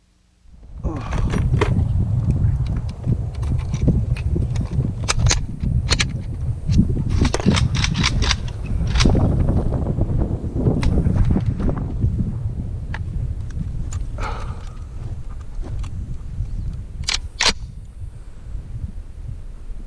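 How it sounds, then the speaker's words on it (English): Stripper clips of five rounds feed an M1A Socom 16 magazine from the top, producing close, busy metallic scrapes, clicks and clacks over roughly twenty seconds with rustling handling noise between sharper snaps. "The magazine also can be replenished from the top with clips of 5 rounds each"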